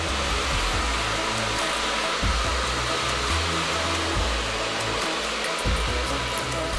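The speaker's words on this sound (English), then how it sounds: "we'll get the diffuser and we will hover dry" A hair dryer fitted with a diffuser blows steadily while hover-drying coily hair for a twist out, a loud continuous airy roar with a low motor hum and slight fluctuations throughout.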